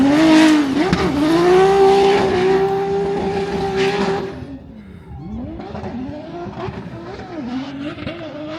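A car engine wails under load while tires squeal through a long drift at a Drift Masters round in Spain, then the noise drops to a lower rumble with scattered squeals.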